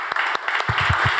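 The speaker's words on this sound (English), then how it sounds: "please give a big round of applause to Hubert" A conference audience applauds a speaker in a short, loud burst of clapping, with a few distinct claps standing out near the end.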